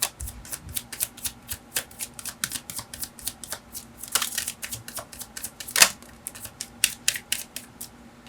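Tarot cards being shuffled and dealt by hand, a close run of quick crisp snaps and flicks in an uneven rhythm, with one louder riffle partway through and no talk.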